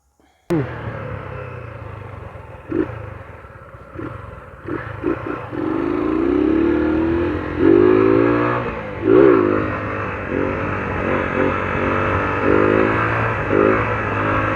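A motorcycle revs hard during wheelies, its close, loud engine note repeatedly rising and falling in pitch with rumbling throttle blips throughout.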